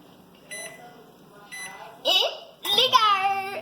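A kitchen microwave oven, set for a cake in a mug, gives a short run of bright electronic beeps near the end, with someone speaking and babbling over it.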